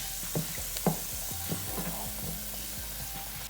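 Thyme and garlic sauté in coconut oil in a pan, an even sizzling crackle with a few clinks and scrapes of a stirring utensil, close and alone.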